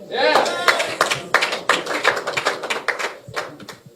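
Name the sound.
applause for presidential candidate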